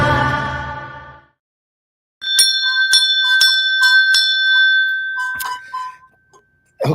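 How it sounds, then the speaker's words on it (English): A bell is struck several times in a row, bright metallic rings with lingering overtones; a voice fades out just before the strikes, then a last louder clang cuts off at the end. "That's the bell of purpose, because we're here on purpose."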